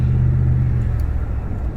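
Hemi V8 pickup truck engine rumbling low and steady at close range, a deep throaty drone that eases slightly toward the end, with no voices.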